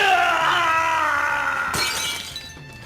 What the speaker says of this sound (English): I basically set it up to look like he's shattering into a million pieces